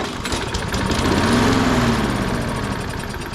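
A Toro 22 inch Recycler walk-behind lawn mower engine cranks, sputters briefly to life with a rising buzz, then fades and dies as fuel runs short, loud and close with no voices.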